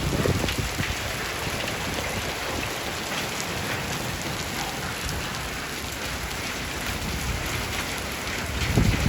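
Steady, dense thunderstorm rainfall pours down continuously in Islamabad, a heavy broadband hiss with close drops pattering on surfaces, slightly louder at the very start and end.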